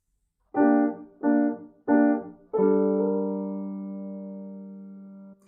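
A bar of music with three short detached notes, then a long held note that slowly fades, featuring an appoggiatura, played on a clean, piano-like instrument with no other sound.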